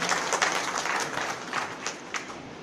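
Applause from a seated audience at a cardiac health talk, a steady wash of many hands clapping at moderate level with no voices over it, fading slightly toward the end.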